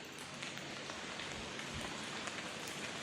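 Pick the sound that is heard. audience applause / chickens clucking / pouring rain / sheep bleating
pouring rain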